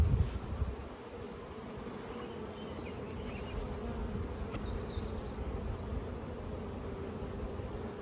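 A honeybee colony hums steadily with a dense, even buzz throughout an open hive inspection, loud and close with no voices over it.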